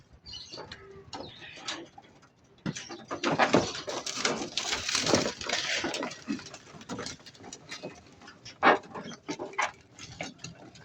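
Hungry racing pigeons feed close by on a scoop of feed, with rapid irregular taps and scuffles of pecking, soft cooing and fluttering, and a few louder bursts of activity.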